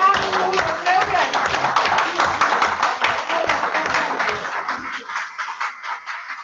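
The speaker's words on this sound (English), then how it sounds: "Big round of applause for Louise" An audience claps for Louise, a steady round of close, hand-clapping applause that holds for several seconds and then thins out and fades near the end.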